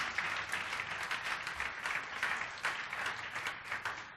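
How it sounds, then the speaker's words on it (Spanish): Church congregation applauding during a sermon, a steady patter of many hands clapping together, moderately distant and fairly soft, with no speech over it. "Si vas a dar un aplauso, dáselo con todas tus fuerzas"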